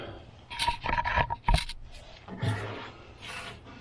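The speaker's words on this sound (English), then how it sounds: "I got this piece ready to just slide straight over my midpipe" An exhaust pipe section scrapes and grinds as it is slid over the midpipe of a Magnaflow catback system going onto 3-inch headers, with several close metallic rubs and a sharp knock midway, then quieter scraping.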